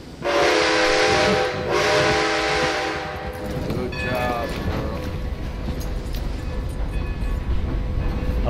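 A train in the Red Dead Redemption 2 video game blasts a loud harmonic whistle twice, then rumbles steadily past close by with a broad rolling roar and clatter.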